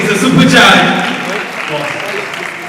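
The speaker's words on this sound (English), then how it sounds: "can we give you a resounding applause, please?" Audience at a Lagos runway fashion show applauds loudly, the clapping swelling early then settling into steady applause with a voice talking over it.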